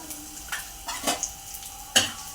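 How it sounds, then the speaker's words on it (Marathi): Whole spices—cinnamon pieces, star anise, cloves, bay leaves—sauté in hot oil for a vegetable biryani, with crisp sizzling and several distinct spatula scrapes and clinks against the pan, close and clear. "याला एक दहा वीस सेकंद आपण परतून घ्यायचं आहे जास्त वेळ परतायचं नाही मसाले करपतात"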